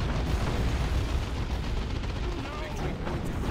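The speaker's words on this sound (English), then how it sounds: "No, just general explosions and stuff, I think, in a way." Explosions and autocannon fire in the real-time strategy game Dawn of War 2, a dense, continuous barrage of booms and rapid gunfire that stays loud throughout with no pauses.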